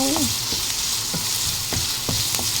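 Onions sautéing in a hot pan, a loud continuous sizzle with several scraping stirs of a utensil at regular intervals, close and heard alone.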